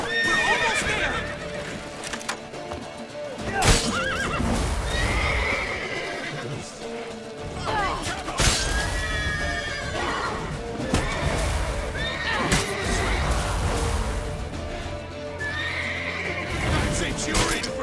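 Horses gallop in The Witcher 3 video game, a steady rush of hoofbeats with repeated neighs and whinnies, while characters shout and talk over the ride.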